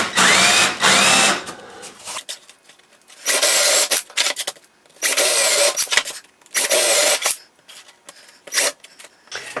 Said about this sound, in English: I'm using a Forstner bit to make a hole.